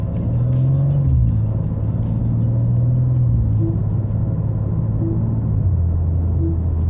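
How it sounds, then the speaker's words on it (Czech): Inside a new BMW M2 on the move, the speeding warning gives three short, faint beeps spaced a second or more apart over a steady engine and road rumble. "To je pípání, který mě upozorňuje na to, že jsem překročil rychlost."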